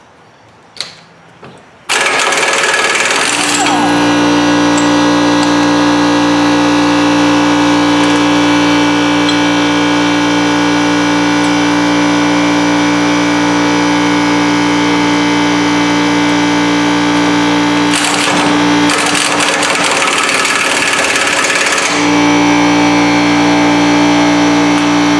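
An Aircat 1600-TH-A pneumatic impact wrench runs loud and close in a long sustained buzzing hammer while removing a fastener, with a short break before a second burst near the end.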